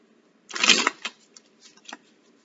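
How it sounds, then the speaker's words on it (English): A quick riffle of tarot cards being shuffled, a brisk burst followed by a few lighter taps and flicks in a quiet room. "Shuffle real quick."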